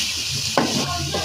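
Prawns frying in a little oil with turmeric, stirred in a pan: a soft steady sizzle with a sharp scrape of the spatula midway and lighter stirring after, close and without talk.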